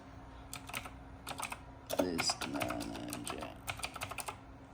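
Quick bursts of computer keyboard typing, crisp clicky keystrokes in short clustered runs with small pauses, close and fairly quiet, as a search term is entered on a PC.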